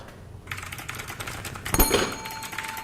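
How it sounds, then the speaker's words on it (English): Keys are struck in a short burst of typing, several quick clicks with one louder clack near the end, alone in a quiet room. "Typing. Correct."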